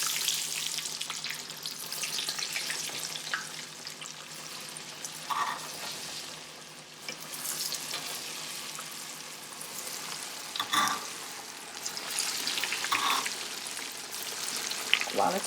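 Plantains for Haitian griot fry in a pan of hot oil, giving a steady close crackling sizzle with occasional louder pops and spatters, heard alone with no talk.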